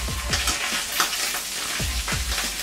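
Chopped chili peppers frying in a hot pan, giving a steady sizzle broken by repeated scraping stirs, close and alone with no voices.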